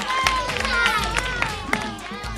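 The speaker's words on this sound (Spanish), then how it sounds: "Un aplauso, por favor," An audience at a children's crafts camp workshop claps and cheers in a lively burst, with excited voices and chatter mixed through the applause.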